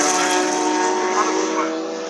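Race cars at Castle Combe race track, a slow car mixed in among the others, make a steady loud engine drone throughout, with people talking over it.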